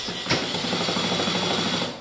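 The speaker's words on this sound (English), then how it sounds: "drill just moves and it doesn't come out" A power drill spins against a stripped screw during subfloor removal, giving a short, steady mechanical whir with a faint rattling pulse at moderate loudness.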